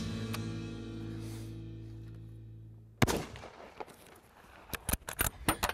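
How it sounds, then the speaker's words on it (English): A rifle fires a single sharp, loud shot while its zero is checked before a fallow deer and mouflon hunt in Spain, breaking a low steady hum, followed by several crisp metallic clicks. "the next step is to check the zero on Kevin's rifle"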